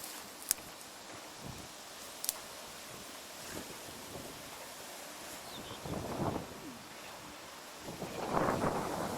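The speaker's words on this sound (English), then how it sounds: "It was the wind going through the reeds." Wind blows through reeds beside a salty lake, a soft, steady rustling hiss that swells louder near the end, with a couple of sharp faint clicks early on.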